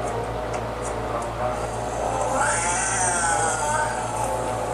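A cat meows in a TV drama scene. The drawn-out cry rises midway through, over a continuous bed of background noise.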